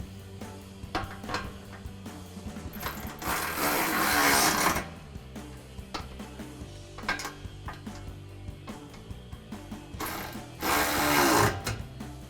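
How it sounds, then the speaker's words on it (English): Bursts of ratcheting from a 13mm socket tightening running board bracket bolts on the inner rocker panel of a 2009-2018 RAM 1500, two sustained runs of clicking at close range with lighter mechanical handling in between. "then we'll go ahead and move up to the ones on the inner rocker panel. Again, using our 13mm socket."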